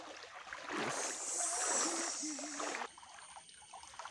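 River water flowing alongside a riverbank during fishing, a moderate rushing trickle that swells for a couple of seconds and then drops away, with no talk.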